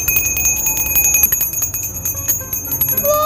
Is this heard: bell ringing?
yes